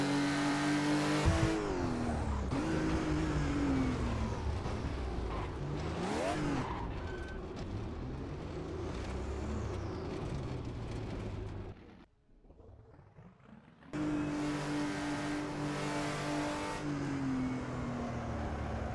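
Race car engines in the Thomson Road Grand Prix racing video game, loud continuous revving with rising and falling pitch and tire noise, a brief near-silent dip, then the engines return at full volume.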